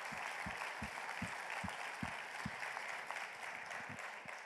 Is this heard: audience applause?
yes